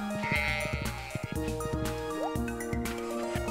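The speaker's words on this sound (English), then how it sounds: "This pig is going nuts" Pig from the farming video game Stardew Valley squealing and grunting in short repeated bursts, mixed over loud rock music from the game session, with no one speaking.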